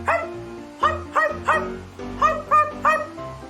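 A human voice mimics a dog barking, producing seven short yelping barks in an uneven rhythm, close and clear.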